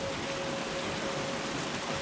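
Summer rain with very big drops falls on a farm garden near Belgrade, Serbia, a constant, even patter and hiss close by with a faint steady hum underneath and nobody talking.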